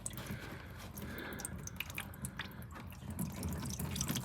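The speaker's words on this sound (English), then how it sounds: "So I just cracked the radiator petcock," Rusty coolant dripping and trickling from the cracked radiator petcock of a 1984 Chrysler LeBaron, quiet irregular drips and splashes close by.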